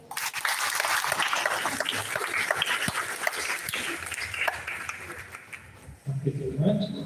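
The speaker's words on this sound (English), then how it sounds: "Please welcome our speaker with a warm round of applause." Warm applause from a seminar audience welcoming the speaker, fairly close clapping that swells, thins out and fades, with voices talking underneath and more talk after a brief lull near the end.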